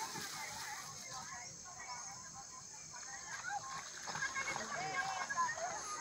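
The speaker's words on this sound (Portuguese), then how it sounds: "Cachorro tomando banho aí" A dog splashes in water while bathing, the sloshing and splattering continuous at moderate distance and growing a little louder toward the end, with people talking nearby.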